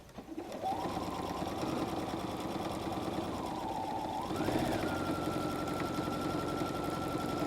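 Sewing machine stitching through the thick layers of a messenger bag, with a brief backstitch, runs as a steady close whir that shifts pitch midway and keeps going to the end without a pause.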